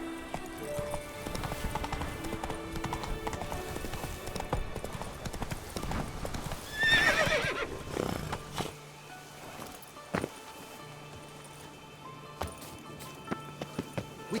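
Roach the horse's hooves clip-clopping in The Witcher 3 video game, a steady run of close hoofbeats with a brief burst of louder movement midway, then sparse scattered thuds as the pace fades.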